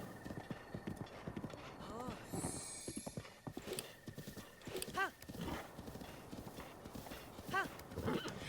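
Horse hooves clip-clop steadily in Breath of the Wild, with several distinct whinnies breaking through the galloping rhythm; a voice talks over the sounds throughout.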